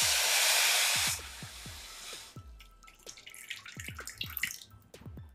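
Water being poured onto sugar in a pan to make syrup for a semolina dish, a steady rushing pour that stops after about a second, followed by a run of soft drips and light splashes.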